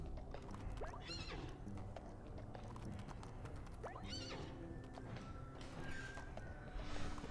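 A horse in the video game What The Golf gives two whinnies over a steady clip-clop of hooves, fairly close and moderately loud, with no speech.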